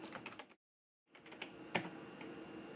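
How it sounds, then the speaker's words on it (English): Someone types a password on a computer keyboard while using a Debian Linux terminal: quiet, close, rapid key clicks in an irregular run, a brief silent pause, then more soft tapping. "It's going to ask me for my password, okay, and I'm going to try to type it in."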